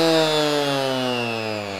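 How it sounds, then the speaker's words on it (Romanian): A Bosch PEX 300 AE random orbit sander with adjustable speed runs steadily, a loud, close, continuous whine whose pitch sinks slightly as the motor settles. "PEX 300 AE este un șlefuitor foarte ușor de manevrat"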